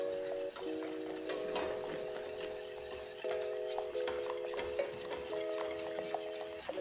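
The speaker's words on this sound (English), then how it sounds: "Then we'll add another 1/3 of our milk, and we just wanna whisk that all up." A whisk stirs milk into a roux for béchamel sauce in a pot, giving quiet, steady ticking and scraping under a soft background tone, with no talking.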